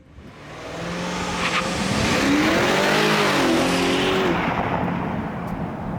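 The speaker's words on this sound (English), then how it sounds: "we get to drive the 2022 X5 M50i" A 2022 BMW X5 M50i SUV revs while driving, its engine climbing in pitch and swelling to a loud, sustained roar close by, with rushing road and wind noise and no speech.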